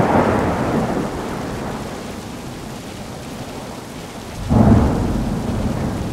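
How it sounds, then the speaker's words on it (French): Thunderstorm with steady heavy rain, a rumbling roll of thunder at the start fading into the downpour, then a second loud crack of thunder near the end. "Mais il pleut partout."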